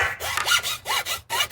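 A textured carbon blade on a CCM Vizion goalie stick is rubbed back and forth close up, making a raspy, scratchy scraping in short repeated strokes.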